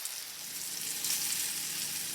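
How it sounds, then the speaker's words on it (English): Pork chops sizzling in a frying pan, a soft, steady crackle and hiss that continues alone without a break. "While the pork chops are frying"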